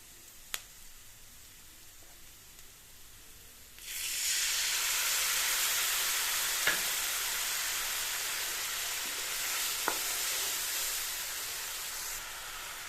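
Tamarind juice poured into a hot frying pan bursts into a loud, sustained hiss and sizzle after a few seconds of quiet, holding steady with a couple of faint ticks on top before easing slightly near the end.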